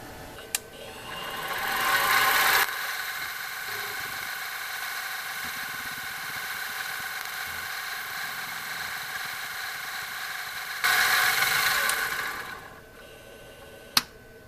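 A steady mechanical whine from a CNC mill drilling an aluminum part continuously, with louder high-pitched bursts at the start and near the end, and a couple of sharp clicks.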